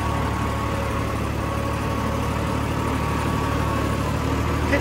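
A Swaraj 969 4WD FE turbo tractor runs steadily with a cultivator attached and four-wheel drive engaged, its low engine drone holding constant and loud throughout, with no voices.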